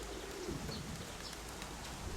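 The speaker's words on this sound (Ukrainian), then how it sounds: "Це 22-й голубок." Pigeons coo softly in low, muffled tones outdoors, with a steady rush of wind or rain-like noise throughout and no voices.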